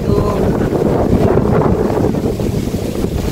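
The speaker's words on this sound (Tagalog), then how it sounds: "Grabe guys, ang hangin dito." Strong outdoor wind buffets the microphone with a loud, continuous low rumble that covers the whole stretch, and no clear voice comes through.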